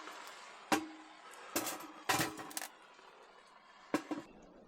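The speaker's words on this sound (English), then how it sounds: "Throw another piece of wood in." A piece of wood thrown into a small 5-inch firebox stove inside a hot tent, giving a few sharp knocking clunks of wood against metal with short rattles between, close and fairly quiet.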